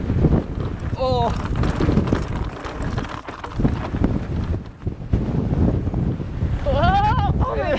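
Strong gusty wind buffeting the microphone on a mountain bike trail, a loud continuous rumble with a person's voice and whoops breaking through.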